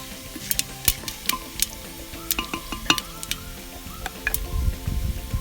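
Fennel seeds sizzling in hot fat in a mud pot over a wood fire, stirred continuously for a village chicken dum biryani, with steady frying hiss and frequent sharp scraping clinks of the spoon against the pot.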